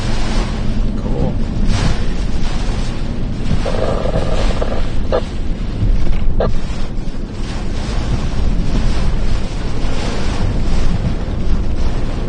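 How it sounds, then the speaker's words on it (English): Strong, steady wind roars and buffets the microphone as Hurricane Milton makes landfall as a Category 4 storm, a dense continuous rush that stays loud throughout, with a few brief knocks partway through. "Might have found the wind here, guys."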